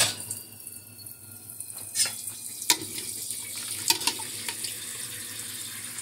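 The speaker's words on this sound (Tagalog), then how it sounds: "Lagyan natin ng tubig" Water pours into a pot of chicken pieces on the stove, a steady running splash with a few clanks of the pot, fairly close and alone.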